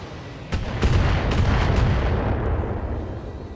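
Heavy mech weapons fire in the BattleTech game, a sharp impact followed by rolling booms and rumbling explosions that swell loud and then slowly fade.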